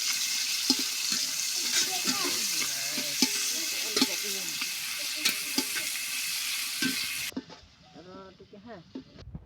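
Chopped onions sizzling in hot oil for chicken biryani, a bright steady frying hiss with stirring scrapes, a voice talking over it, then the sizzle cuts out and the talk continues more clearly.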